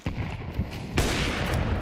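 Rapid gunfire from Tech-9 and MAC-10 submachine guns and pistols in a Counter-Strike 2 esports match crackles in dense, overlapping bursts, turning into a loud, sustained barrage partway through.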